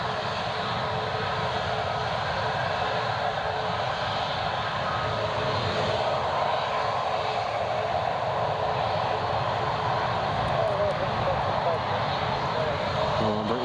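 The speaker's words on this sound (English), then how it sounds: "British Airways has gone all the way down the end of the runway." British Airways airliner on the runway, a steady distant jet engine roar that stays constant throughout, with faint voices talking underneath.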